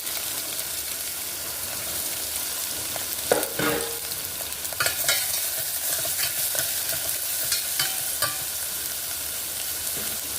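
Chopped onions frying in a pan for Andhra-style dal, a constant close hiss of sizzling oil with occasional scrapes and clicks of stirring.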